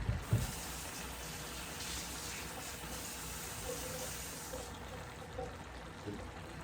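Cold water runs steadily from a kitchen tap in a soft, even hiss, fairly faint and alone, while cornstarch is being mixed.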